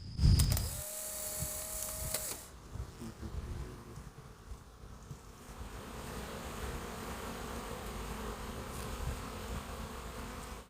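Steady bee buzzing fills the background at a homestead, with a louder burst of noise at the start, then a continuous low drone throughout.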